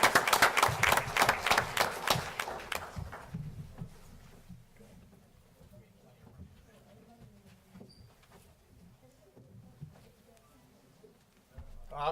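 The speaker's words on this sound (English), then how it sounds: "I'd like to give them a nice round of applause" Applause at a Lower Township council meeting fills the first three seconds as a dense burst of clapping, then fades into quieter room noise while people talk.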